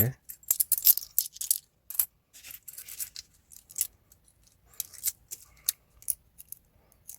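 Japanese 100-yen coins are dropped and handled one after another, giving a run of bright metallic clinks and taps in quick, uneven bursts, close and clear.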